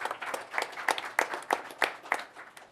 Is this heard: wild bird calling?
no